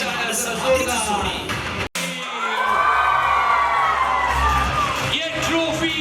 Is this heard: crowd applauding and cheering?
yes